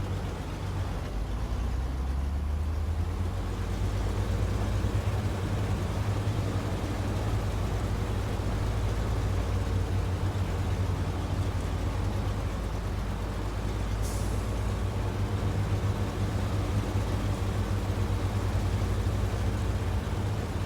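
A Western Star truck carrying a crane drives in SnowRunner, its engine a loud, steady, close low drone throughout, with a brief hiss near the end.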